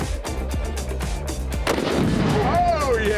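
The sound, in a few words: bolt-action rifle gunshot with muzzle brake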